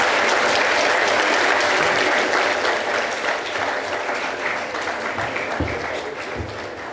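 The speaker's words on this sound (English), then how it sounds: "Let's applaud for them." Audience applause for a team collecting its trophy at a school sports award ceremony, continuous dense clapping that starts full and slowly thins over several seconds, with a few louder claps near the end.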